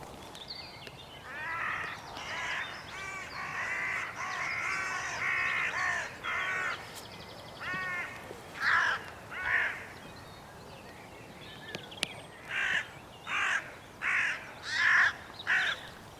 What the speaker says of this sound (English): So the crows went back to their dive bombing, over and over again.